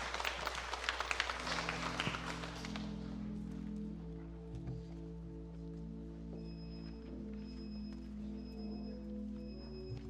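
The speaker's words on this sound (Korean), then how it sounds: "모든 하나님 앞에 박수를 올려드리겠습니다" A church congregation claps together briefly during a service, a dense burst of applause in the first few seconds that fades out under sustained, steady keyboard chords.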